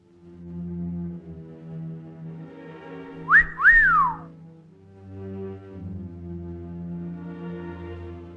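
A woman whistles to get a farmer's attention in a village, two sharp rising-and-falling whistles standing out loudly over a soft, sustained musical background.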